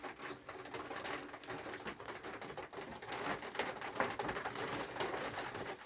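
Sport pigeons shuffle and coo inside a new pigeon loft, with a steady close clatter of wing flaps, feet and soft calls filling the space and no voices.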